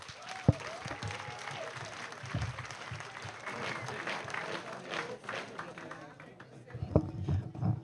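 Audience at a trade-union congress applauding in a large hall, with sustained, dense clapping from many hands, a few louder bursts and voices mixed in.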